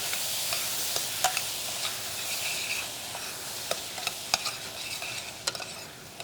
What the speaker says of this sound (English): They are roasting in a good way, and the onion is not frying.